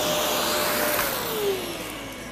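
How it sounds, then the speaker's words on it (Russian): A Sinbo SVC 3459 vacuum cleaner runs with a steady, dense whooshing hiss and airflow roar, its pitch dipping slightly partway through as the load changes. "Сухая уборка в исполнении пылесоса Синба"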